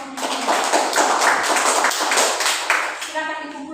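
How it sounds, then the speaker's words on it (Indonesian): A small group of schoolchildren in a classroom claps together for a few seconds, then the applause tapers off. "Tepuk tangan untuk kelompok ini."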